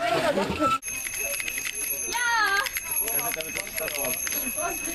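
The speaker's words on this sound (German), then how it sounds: "Diese scheiß Klingeln!" A bell rings with a steady, high, piercing tone during a school class trip, continuing for several seconds while young people shout and talk loudly around it.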